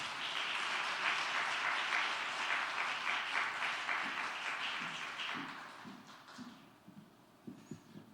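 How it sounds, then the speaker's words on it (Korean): A church congregation gives warm applause to welcome a preacher to the pulpit at a Friday service, dense clapping that lasts about five seconds and then thins to a few scattered claps and soft movement. "뜨거운 박수로 환영하겠습니다"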